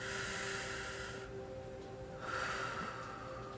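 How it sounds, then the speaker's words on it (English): A soft, breathy puff of air is blown on a candle close to the microphone over a quiet, steady background hiss. "I blew on the candle."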